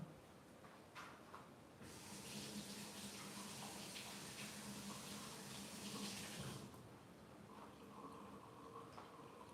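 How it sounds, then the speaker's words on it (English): Water from a kitchen tap runs while hands are washed during cooking. A close, steady hissing gush starts after a couple of seconds, lasts about five seconds, then stops, leaving quieter handling sounds. "Let me wash my hands again."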